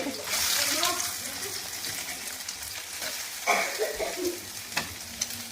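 Washed soybean chunks frying and being stirred in a pan for vegetable biryani, a loud sizzle at first settling into steady crackling with scraping stir strokes and spatters, someone talking over part of it.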